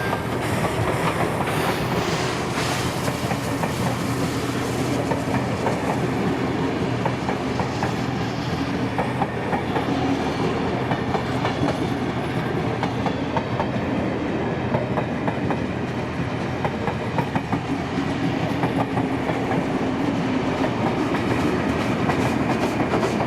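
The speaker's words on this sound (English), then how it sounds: "the two locomotives are now seen making their way back to Mossvale," A train hauled by two locomotives, one at each end, rolls along continuously in New South Wales, a broad steady roar with rhythmic wheel clatter, heard fairly close for a long stretch.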